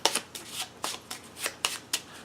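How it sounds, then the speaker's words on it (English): Playing cards being shuffled back into a deck, a quick series of crisp riffling bursts repeating about every quarter second, close and alone. "I would shuffle it back into the court deck."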